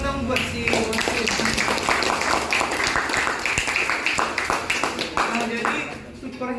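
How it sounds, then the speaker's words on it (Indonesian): An indoor audience, apparently a classroom group, claps for a referee, with brisk scattered claps of moderate loudness running through the stretch under steady chatter and voices. "Oke, kita tepuk tangan dong buat si wasit."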